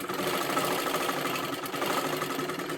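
Sewing machine running a double line of stitching over tucks in silky fabric, a steady close whirr throughout with no pauses.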